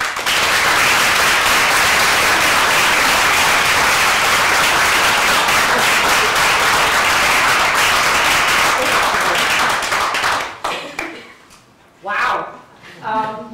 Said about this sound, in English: this team here right at the front, that I think we all need to give a round of applause for their efforts